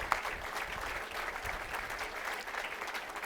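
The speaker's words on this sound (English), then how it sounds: "you all give a round of applause for Leroy" Steady audience applause rises at a Miami Gardens State of the City address for Leroy Jones, a sustained wash of clapping from a crowd, moderately distant and unbroken for several seconds.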